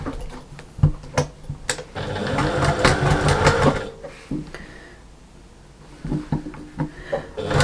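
Domestic sewing machine top stitching an armchair sewing caddy, running in short bursts with brief pauses and clicks between runs, moderately close and loud.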